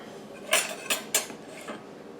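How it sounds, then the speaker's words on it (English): Glass canning jars with rings on, filled with ham and white bean soup, are set down into a canner one after another, making three sharp clinks followed by a softer knock, close by and with no talking. "I put my rings on finger tight and I'm going to set them over in"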